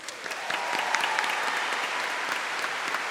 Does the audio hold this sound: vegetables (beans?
no